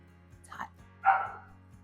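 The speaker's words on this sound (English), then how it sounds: "all my puppies want to bite" Small puppies give a couple of short, mid-pitched barks or yips in a kitchen, one faint and a louder one right after, over a steady low hum.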